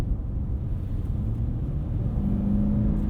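A 2020 pickup truck with a 9-speed transmission, Nissan Titan Pro-4X or Toyota Tundra TRD Pro, accelerates from inside the cab, its engine a steady low rumble and whir that builds slightly toward the end.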